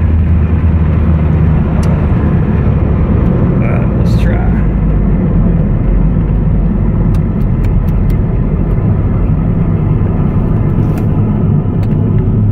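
A Toyota MR2 with a faulty automatic transmission drones loudly and continuously from inside the car as it is shifted manually, its low engine rumble steady under a person talking.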